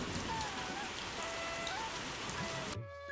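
Rain drips through the roof of a hut as a dense, steady patter that fills the space and stays constant before cutting off abruptly near the end.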